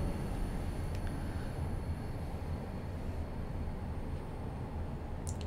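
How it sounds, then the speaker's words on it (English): A Class 37 diesel locomotive drives along the Cumbrian Coast and Furness line in Train Sim World 2022, giving a steady, moderately loud rolling rumble from the cab with no speech. "it's definitely nice to be driving the Class 37 again"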